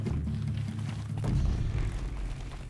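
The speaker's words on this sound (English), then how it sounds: "Are they blowing themselves up or something? I keep hearing explosions." A low, rumbling boom rolls out in the game Horizon Zero Dawn, a deep swelling blast that builds and lingers for a couple of seconds with no talking.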